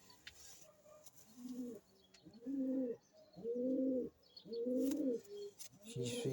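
Young pigeons cooing close by, in four or five loud, rounded bursts spaced about a second apart, with faint chirps in the background.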